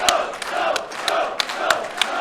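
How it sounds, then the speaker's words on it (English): Wrestling arena crowd at a San Francisco show cheers and roars loudly, a sustained ovation with rhythmic chant-like surges and sharp shouts rising above the dense crowd noise. "Listen to this crowd."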